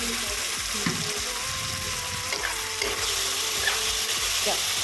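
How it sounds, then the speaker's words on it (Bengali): Ginger, garlic and green chilli paste fries with onion and tomato in a pan, a continuous close sizzle broken by occasional stirring scrapes and spoon knocks. "পেঁয়াজ টমেটো ফ্রাই হয়ে যাওয়ার পর দিয়ে দেবো আদা, রসুন, কাঁচা লঙ্কা পেস্ট"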